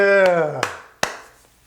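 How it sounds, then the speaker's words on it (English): A voice trails off, followed by three sharp single hand claps spaced roughly evenly apart, loud and near with quiet between them. "Why am I clapping?"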